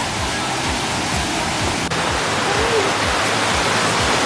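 Waterfall at Nagpatong Rock Formation on a hike, a loud, steady, broadband rush of falling water filling the whole stretch, close and unbroken.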